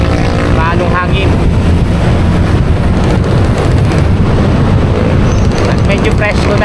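Strong sea wind roars across the microphone aboard a boat heading to Calaca, loud and constant for the whole stretch, with a low rumble underneath.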